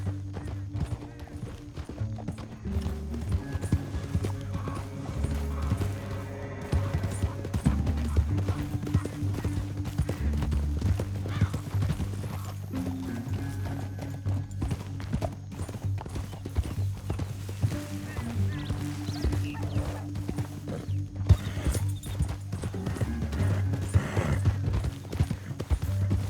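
Rapid, steady hoofbeats of a galloping horse in Red Dead Redemption 2 run throughout, layered with a low music bed and occasional whinnies.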